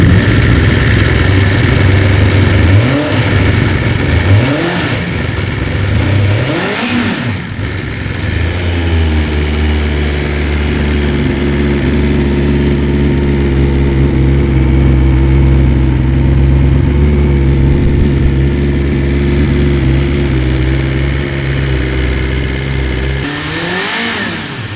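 A 2021 BMW S1000RR motorcycle fitted with an Akrapovic slip-on exhaust revs hard several times, sharp throttle blips rising and falling over a loud idle, then settles into a steady, throaty idle with another rev near the end.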